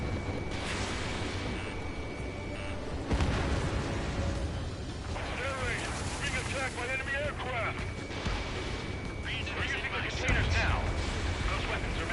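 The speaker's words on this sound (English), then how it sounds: "Fire the AA!" Anti-aircraft fire in the Ace Combat 7 video game, heavy rumbling booms and a roar of cannon and jet noise, with radio voices talking over the continuous barrage.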